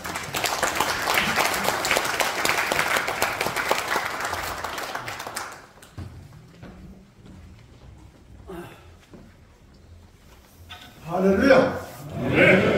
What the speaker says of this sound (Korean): 목사님 나오실 적에 우리 뜨거운 박수로 환영하겠습니다